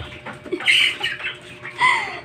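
Chickens in a poultry house give short clucks and squawks at close range, some sharp and high, scattered irregularly over a quiet background.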